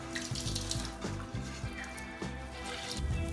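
Water dripping and trickling from squeezed-out bedding for a worm compost bin, a series of close, soft splashes and patters in an irregular rhythm.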